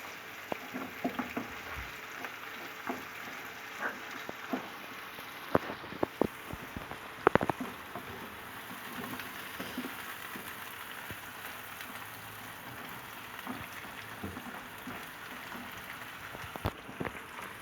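Ground beef mince browning in a pan, a faint, steady crackling sizzle scattered with sharper pops and occasional clinks, quiet and continuous with no talk over it.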